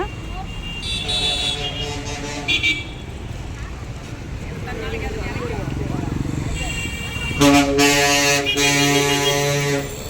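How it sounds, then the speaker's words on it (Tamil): Heavy city traffic inside Erode, with engines droning continuously and repeated car horns honking, including a long sustained blare near the end, all close and loud while people talk over it. "பயங்கரமான டிராஃபிக்கான பகுதி இது."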